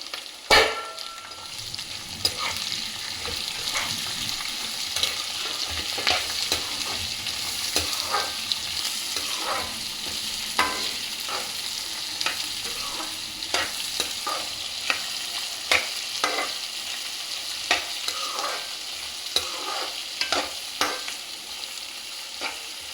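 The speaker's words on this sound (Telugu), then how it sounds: "ఆనియన్స్, కర్రీ లీవ్స్, చిల్లీస్ అవి ఇప్పుడు యాడ్ చేసుకుందామా." Onions, curry leaves and chillies fry in hot oil and are stirred, a constant sizzle punctuated by frequent clinking spatula scrapes against the pan, close and without speech.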